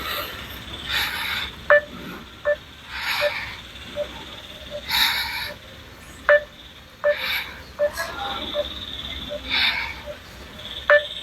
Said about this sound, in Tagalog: Tawagan uli natin, mga tol.